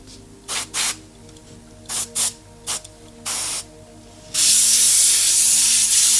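Airbrush bursts spray paint in short hissy puffs, several brief pulses followed by one long continuous spray, close and clear without voices.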